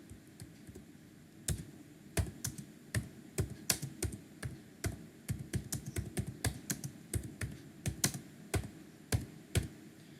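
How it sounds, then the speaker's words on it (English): Keys tapped on a computer keyboard, the Tab key pressed repeatedly in a word processor: a run of sharp, close clicks in an uneven rhythm, some quick pairs, against a quiet room. "let me press the tab keys now"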